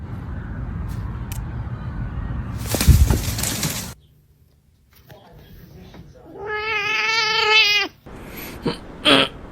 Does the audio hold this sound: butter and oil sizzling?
no